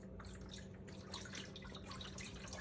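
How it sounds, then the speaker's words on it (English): Chicken broth pours steadily into a pot of cabbage for steaming, a faint, continuous liquid splash and trickle with no talking. "I'm going to add chicken broth"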